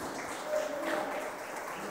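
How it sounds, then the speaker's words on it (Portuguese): Congregation applauding during a Portuguese-language church sermon: a steady, sustained wash of clapping that swells slightly midway and holds at a moderate level throughout. "Dê um aplauso ao Senhor."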